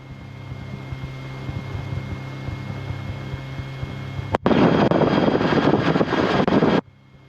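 A steady engine drone hums, then a loud roaring airboat propeller engine suddenly swells close by for a couple of seconds before cutting off abruptly.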